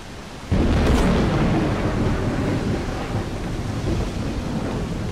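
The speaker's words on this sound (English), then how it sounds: "Got all the rain, they got thunder." A thunder crash in the rainy level of the video game Darksiders Genesis breaks in suddenly over steady rain, then rolls and rumbles on beneath continuous downpour.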